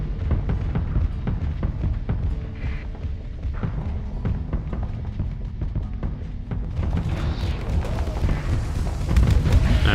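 Missile explosions in a space combat video game: a dense, continuous barrage of deep booms and thuds under a rumbling engine drone, loud and unbroken.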